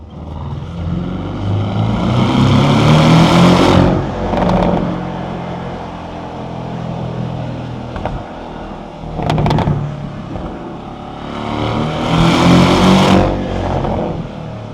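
Car engine on a mountain canyon road at night, loud and close, climbing through repeated revving pulls with brief dips and sharp gear-change breaks between surges.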